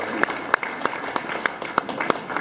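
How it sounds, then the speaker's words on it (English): A small group gives sparse, uneven applause at a gathering honoring a legacy quilt, with a handful of distinct claps rising out of low room murmur and voices nearby. "Round of applause"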